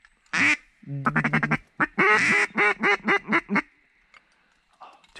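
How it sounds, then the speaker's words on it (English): Two large ducks and a teal quack in a rapid series of loud, nasal calls, several bursts in quick succession close by, then trailing off into quiet. "Two big ducks and a teal."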